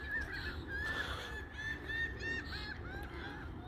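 Ducks honk and call in a chorus from a distance at an early morning park during a walk with a Cane Corso, a steady quiet layering of repeated nasal quacks over outdoor ambience.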